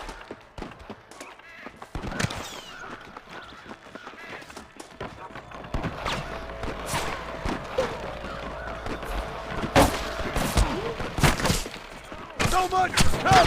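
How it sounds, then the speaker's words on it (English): Scattered gunshots in the Western video game Red Dead Redemption during a shootout with rustlers, sharp bursts popping irregularly and growing more frequent toward the end, with voices talking between them. "I can hear more gunshots."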